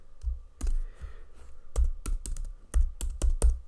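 Bursts of computer keyboard typing during Python coding work, clustered clicky keystrokes in quick irregular runs with short pauses, fairly close and alone with no talk.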